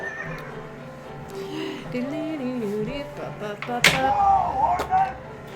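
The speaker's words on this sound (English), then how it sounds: "Whoa, horses!" An electronic horse whinny rings out from a Data East/Sega Maverick pinball machine amid chatter and clattering, followed by a sharp bang and a second, higher neigh.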